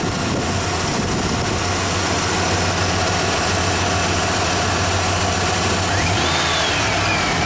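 A 1995 Ford F150 engine runs loud and close with a low steady rumble and a mild rise in revs, then eases back near the end, with no talk over it.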